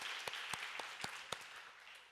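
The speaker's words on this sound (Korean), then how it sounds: "우리 격려의 박수 한번 했으면 좋겠어요" Church congregation gives a round of encouraging applause for a volunteer document team, faint and distant, with a few sharp individual claps standing out every quarter second over the soft wash.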